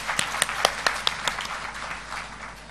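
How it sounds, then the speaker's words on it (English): Audience applause greets a session chair at an international holistic health conference, beginning with several distinct sharp claps in an uneven rhythm, then thinning into a softer, fading patter. "Please welcome him with a huge round of applause."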